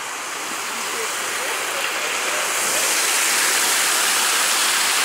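Clear mountain water rushes steadily through a sluice at a small hydroelectric power station, a loud, continuous broadband roar that swells slightly partway through, heard close up with no talking.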